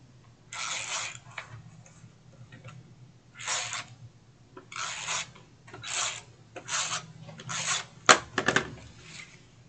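Adhesive tape pulled off a roll in short rasping bursts and pressed onto a Dollar Tree binder with a gold backer, nearby, ending with a few sharp clicks and taps.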